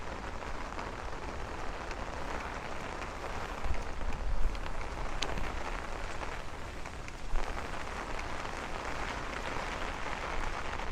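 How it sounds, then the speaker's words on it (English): Heavy rain pours steadily during a thunderstorm on a Brooklyn street in Bay Ridge, a dense continuous hiss with a few louder gusts and splashes, no voices. "as the rain gets really heavy all of a sudden"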